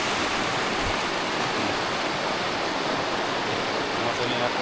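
A river stream in the Lamdwali Bhurdi Khola area rushes past in a constant, dense wash of flowing water, loud and close and unbroken throughout.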